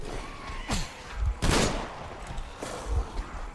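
Shotgun blasts in the video game Metro Exodus: a few sharp, loud reports spaced out over a few seconds, with a broad burst near the middle, against a steady background rumble.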